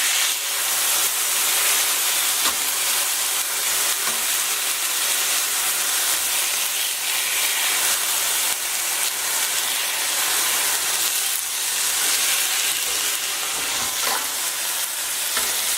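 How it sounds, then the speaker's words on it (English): Tomatoes being mashed in a hot pan sizzle and hiss steadily throughout, a dense, continuous frying sound with occasional stirring scrapes and no voices. "We're just going to mash our tomatoes."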